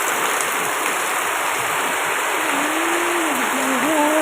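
Sudden heavy afternoon rain pours down in a steady, dense broadband wash, loud and continuous throughout with no break, a few faint tonal sounds drifting in near the end.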